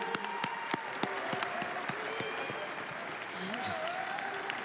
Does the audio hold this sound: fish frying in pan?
no